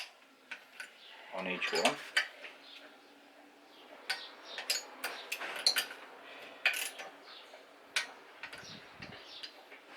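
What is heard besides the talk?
torque wrench tightening bolts in crossways pattern to 8 Newton meters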